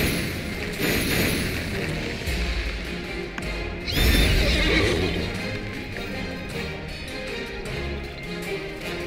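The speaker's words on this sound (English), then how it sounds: "It's a horse!" A horse whinnies loudly over a busy background of clattering hooves and game sounds in Neverwinter, with another shrill neigh rising partway through.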